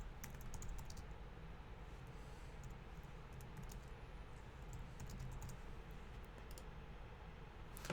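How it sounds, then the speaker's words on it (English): Quick typing on a computer keyboard, bursts of light key clicks in short runs at the start, middle and end over a low steady background hum, faint and close. "And I'll just type that in real quick."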